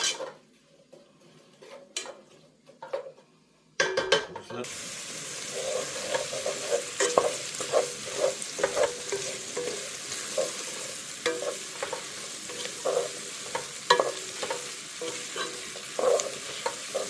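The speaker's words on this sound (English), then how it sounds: "our onions softening up nicely" Onions softening in a hot pan with garlic, a steady sizzle and frying hiss running throughout, with a utensil repeatedly scraping and tapping against the pan as it is stirred; the sizzle jumps louder after a quieter opening few seconds.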